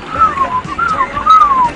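Someone whistles a wavering, sliding tune for about two seconds, the pitch rising and falling in a few short phrases, fairly loud and close against a low background murmur.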